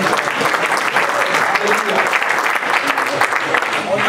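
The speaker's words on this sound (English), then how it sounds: "Let's give the Lord a good, good clap offering." Church congregation clapping during a men's ministry meeting, loud, sustained applause from many hands filling the room continuously, with a voice faintly under it.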